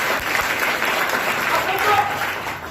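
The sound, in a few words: audience applause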